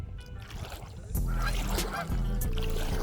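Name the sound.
Canada geese honking on river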